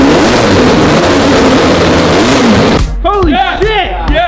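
A 12-rotor rotary engine on its first cold start gives a loud, dense roaring rev. It then drops to a rougher idle while excited voices shout close by.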